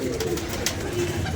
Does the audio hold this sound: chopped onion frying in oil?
no